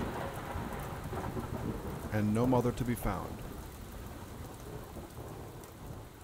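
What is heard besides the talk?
thunderstorm with rain and thunder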